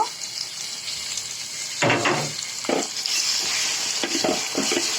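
Pasta ingredients sizzle in a pan while a spatula stirs and scrapes in several bursts over a constant frying hiss.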